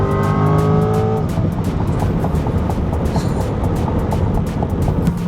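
A 2026 Corvette E-Ray accelerates hard, its engine note climbing and then holding a steady loud roar from inside the car.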